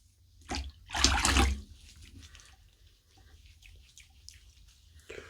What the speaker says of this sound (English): Let's rinse off and see where we're at.